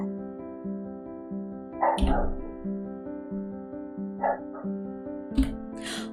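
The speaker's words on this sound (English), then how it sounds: "Oh, my dog has discovered another dog." A dog barking indoors, a few short separate barks popping up over a steady tonal hum of game music.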